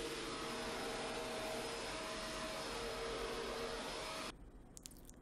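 A Shark Rotator NV752 vacuum cleaner runs on a hardwood floor, a loud, steady close-up whine and roar that cuts off abruptly near the end, leaving quiet room sound.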